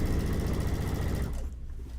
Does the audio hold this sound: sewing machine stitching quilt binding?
yes